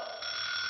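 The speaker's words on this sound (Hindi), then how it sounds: "अरे सुबह सुबह ये अलार्म क्यों बजने लगा?" An alarm clock rings in the morning with a steady, loud electronic tone that carries through the whole short stretch.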